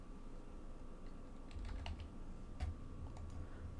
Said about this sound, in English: You want to type in OWA into a search box.